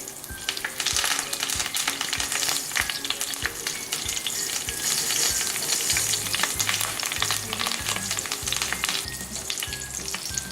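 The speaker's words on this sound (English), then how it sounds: "Now the green chilies are spluttering a bit." Green chilies spluttering in hot oil in a pan for an Andhra chicken fry, a loud continuous sizzle with crackling pops and occasional stirring, no voices.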